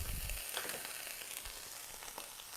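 Ginger and garlic fry in a fry pan with a close, crackling sizzle that fades slightly toward the end, and a few spatula knocks and stirring scrapes sound along the way.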